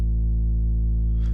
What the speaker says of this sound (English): For the bass, as always, I used BTT Vision Sub 2.